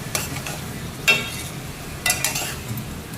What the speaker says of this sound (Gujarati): હવે ડુંગળી હલાવે